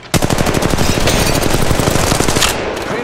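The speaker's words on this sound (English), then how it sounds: "They're shooting at me." Gunfire in the mobile video game Apex Legends Mobile comes as a loud, rapid automatic burst of closely spaced shots lasting about two and a half seconds, then cuts off.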